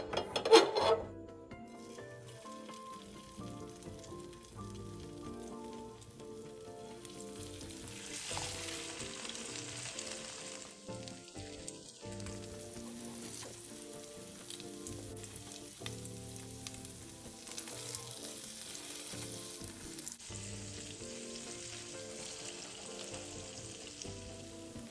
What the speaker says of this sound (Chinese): 油热后再将芋头糕放入煎一煎